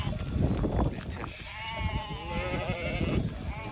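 Sheep bleat in a barn, several wavering calls rising and falling through the middle of the stretch over a steady background of shuffling and farmyard noise.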